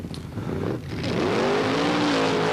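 Chevrolet race car on a sand track, a close engine note rising as it accelerates, loud and steady.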